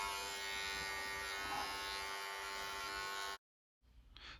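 Electric hair clippers fitted with a 0 guard buzz steadily while cutting an afro skin fade, a close, continuous motor hum that cuts off abruptly near the end before a faint brief return.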